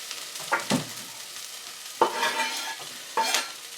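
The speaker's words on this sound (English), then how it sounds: "And we're only going to fry this" Garlic frying in a pan, sizzling softly while being stirred, with three distinct scraping stirs spaced through the moment and no voices.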